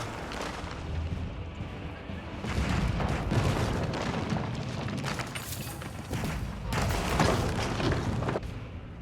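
Artillery fire pounding a palace in an Age of Empires 4 battle between Order of the Dragon and Ayyubids, dense repeated booms and crashes layered over battle noise, loud and sustained, with a voice talking over it.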